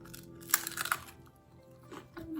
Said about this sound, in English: Here's the deep fried version. I'm going to dip and take a quick bite.